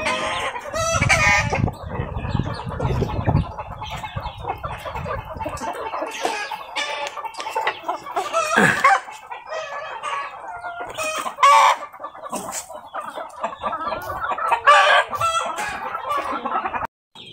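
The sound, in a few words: chickens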